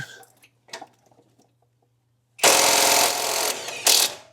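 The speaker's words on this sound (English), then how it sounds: "That's my bolt you heard rattling around. It got it off." A Hercules compact 1/2-inch cordless impact wrench hammers loose a bolt at an angle through a flex joint, a few faint clicks and rattles first, then a loud continuous rattling burst lasting about two seconds.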